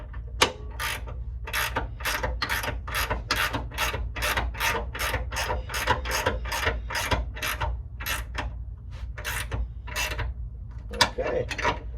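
A ratchet tightening an adjustable shock absorber on an '89 Mustang GT, a close run of quick rasping clicks in steady strokes that pause briefly near the end and then resume, with no speech.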